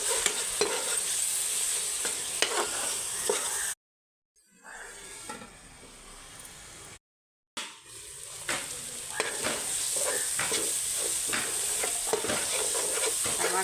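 Tomato fries in a pan with a steady close sizzle while a spoon scrapes and stirs, the sound cutting out briefly twice before resuming.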